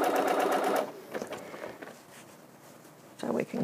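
A sewing machine stitching folded fabric for a fabric bowl, a loud close burst of rapid whirring stitches that stops, quieter handling noises, then another short run of stitching.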